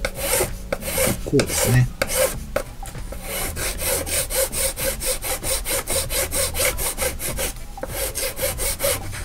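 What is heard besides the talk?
filing putty on a tank diorama base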